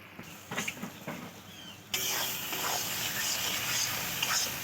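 Ground melon seed paste for egg curry hits a hot pan with a faint start, then a steady loud sizzling hiss that keeps going as it is stirred.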